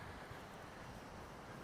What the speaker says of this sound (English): Boy, it is a little windy.